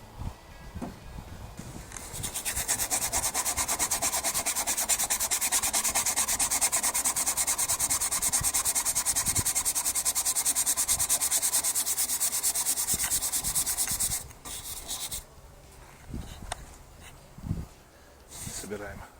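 A stiff, worn brush scrubs white spirit over the rusty underbody of a UAZ Patriot: a loud, steady, rasping rub that runs for about twelve seconds and then stops, leaving quieter handling noises.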